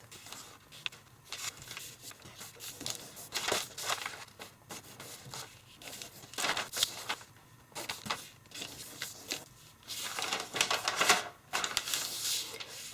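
Paper being creased and folded for an origami kangaroo, crisp rustles and scraping strokes coming in repeated bursts at close range with short pauses between, no voices.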